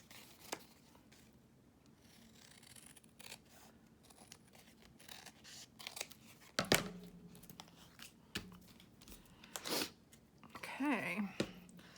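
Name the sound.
cutting off excess paper for journal cards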